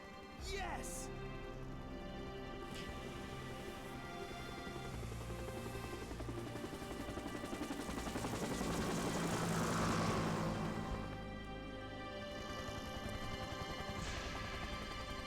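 Helicopter in Resident Evil 3 Remake swooping in, a sustained rotor and engine roar that swells to a peak partway through and eases off, with game voices and a person talking over it.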